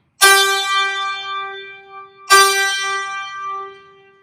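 Two bright metallic santur string strikes with a wooden hammer about two seconds apart, each ringing out with a shimmering, sustained decay in quiet surroundings.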